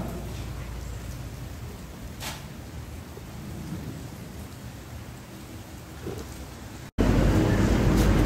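Steady rain pours down, a dense continuous hiss with a brief gap before it returns louder and closer; no voices.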